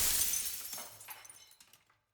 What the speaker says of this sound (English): Every time with that glass shatter.